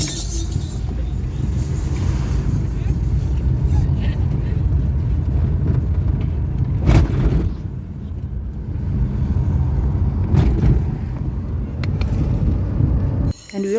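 A car drives through a rural African village, a steady engine rumble and road noise running close throughout with a few louder bumps and passes.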